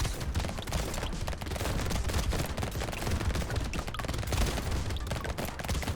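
Dense, continuous video game gunfire, with rapid overlapping shots and bursts filling the whole stretch at steady loudness, and no voices over it.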